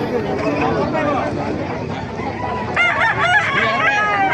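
A rooster crows loudly over a busy background of murmuring voices and other fowl clucking nearby, at a gamefowl market in Bocaue, Bulacan.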